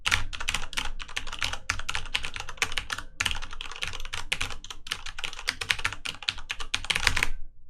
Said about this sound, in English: Type that in on your keyboard, making this kind of sound